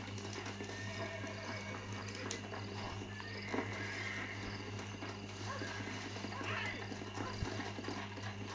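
Faint hoofbeats and a horse's whinny from a Western-themed video game sit under a constant low hum and background game ambience, quiet and distant throughout, with brief voices in the mix.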